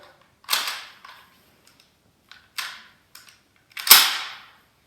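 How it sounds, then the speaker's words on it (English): A US M1 Garand rifle is cocked for strip and assembly, giving a few sharp, close metallic clacks and snaps spaced apart with silence between them, the last one the loudest. "First thing we do is we cock the weapon."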